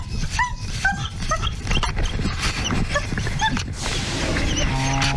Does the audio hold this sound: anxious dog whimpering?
yes